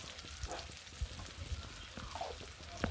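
Potatoes frying in a pan for an egg curry, a steady soft sizzle with small crackles and occasional stirring knocks, close and fairly quiet, no talking.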